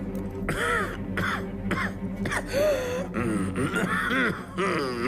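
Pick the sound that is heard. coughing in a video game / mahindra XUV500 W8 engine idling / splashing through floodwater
coughing in a video game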